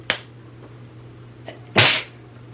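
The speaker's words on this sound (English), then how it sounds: "I hope that was just a sneeze." A brief sharp burst of breath comes first, then a loud, explosive sneeze about a second and a half later, close to the microphone.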